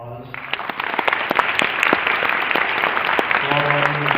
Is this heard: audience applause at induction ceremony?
yes